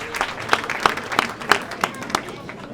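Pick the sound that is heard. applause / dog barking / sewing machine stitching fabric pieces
applause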